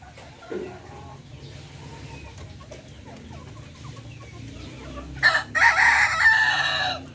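Hens close to laying eggs cluck softly in a farmyard, with a loud, drawn-out fowl call bursting out near the end over a steady low background.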